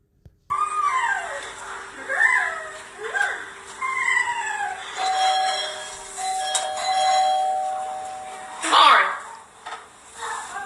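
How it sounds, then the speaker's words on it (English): A doorbell chimes repeatedly in a home, bright falling ding-dong tones layered with a steady ringing tone and other clattering sounds, moderately loud with a voice talking over it. "why is he ringing the doorbell?"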